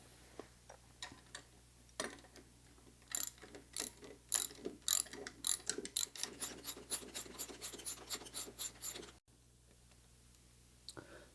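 Ratchet wrench loosening a wheelchair axle bolt to remove the wheel, a rapid run of close, sharp clicks in quick bursts that stop abruptly, leaving a quiet room.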